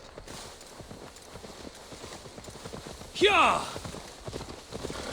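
A horse in Assassin's Creed Valhalla whinnies and snorts in a brief loud burst midway, with faint hoof clatter and game ambience around it and a short shout from a person.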